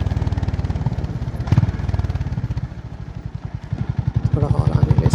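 Honda CB350RS motorcycle engine thumping steadily while riding, a close, loud pulsing drone that dips briefly midway and builds again, with someone talking over it.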